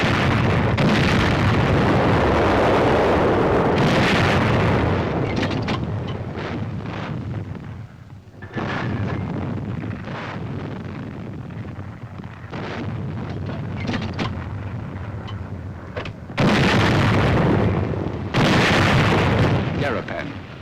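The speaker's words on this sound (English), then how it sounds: "Army artillery goes into action." Army artillery firing on Garapan, capital of the Marianas, during the 1944 Pacific War, with heavy booming blasts and rumbling bursts that come in waves, loud and close. A narrator's voice runs over the explosions.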